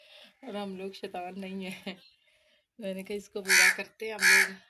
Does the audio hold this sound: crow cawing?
yes